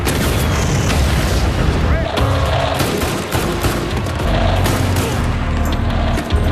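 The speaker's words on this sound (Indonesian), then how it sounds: "menembaknya hingga RPG tersebut pun meledak" Gunfire followed by a loud, booming RPG explosion in a dense, chaotic film action-scene mix set in Afghanistan, with voices shouting underneath the continuous noise.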